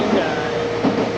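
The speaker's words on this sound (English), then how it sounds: "I'm on the train." Steady rumble and rattling of a train moving along the rails, heard from inside a carriage, heading to Yoshino, Japan.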